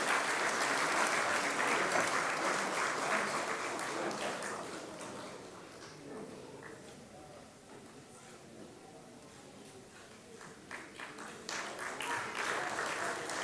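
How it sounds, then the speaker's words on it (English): Audience applause at an Independence Day award ceremony: sustained clapping from a sizeable crowd, loud at first, easing off in the middle, then swelling again toward the end. "A big round of applause for Meghna"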